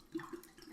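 A bottle of red wine being poured into a pitcher for winter sangria, giving a short, steady liquid gurgle and splash, soft and close with no talk.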